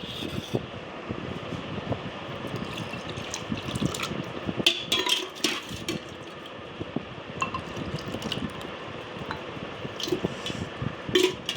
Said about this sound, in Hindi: अपने गिलास में डालेंगे पानी को।